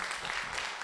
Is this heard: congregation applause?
yes